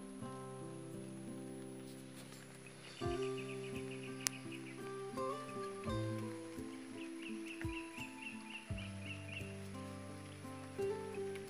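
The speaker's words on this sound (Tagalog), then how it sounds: "Ulan pa rin siya guys. Parang ambon na lang siya," Light drizzle falls on a farm, a soft steady patter spread evenly beneath a low background hum, with a few faint bird calls and no talking.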